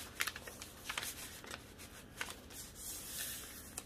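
Paper folded lightly by hand while working in a craft journal, a series of soft, crisp crinkles and rustles with a few sharper creases, quiet and close, with no talking.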